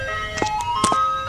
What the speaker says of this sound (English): You stole an ice cream truck?